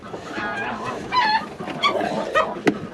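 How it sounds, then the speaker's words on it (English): Chickens clucking close by around an old sheep feeder on a farm during a morning routine, several short, uneven clucks and squawks mixed with a person talking. "Oh, watch out, chickens."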